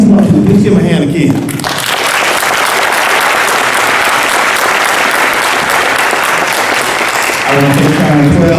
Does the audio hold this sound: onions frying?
no